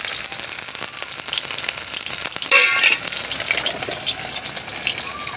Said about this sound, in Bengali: মাছটা তেলে ফ্রাই হচ্ছে